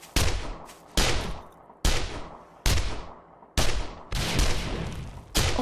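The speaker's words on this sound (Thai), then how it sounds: "คุณปิ๊กยิงด้วยลูกปืนไหม" Gunfire in the survival game 7 Days to Die: about seven loud, sharp shots fire in a steady, fairly slow rhythm, each with a short decaying tail, with no talk over them.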